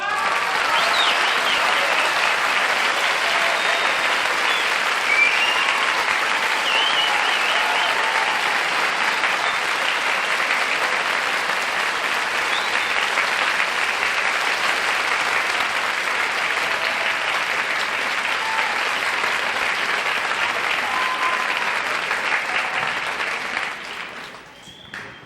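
A game show studio audience applauds a mystery guest with dense, loud, sustained clapping for over twenty seconds before it tapers off at the end.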